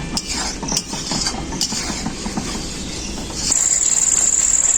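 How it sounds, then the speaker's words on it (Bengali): Spice paste for fish korma being stirred and fried in a pan, with a spoon scraping and clinking against the pan over a steady sizzle that grows louder toward the end. "মশলাটাকে খুব ভালো করে কষাতে থাকবো যতক্ষণ না মশলা থেকে তেল ছাড়ছে"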